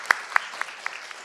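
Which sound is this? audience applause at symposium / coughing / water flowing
audience applause at symposium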